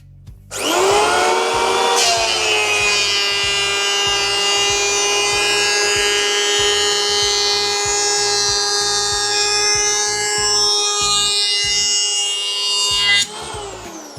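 A SENIX 3-inch electric hand planer shaving wood whines at a high steady pitch, close and loud, running continuously for several seconds before spinning down.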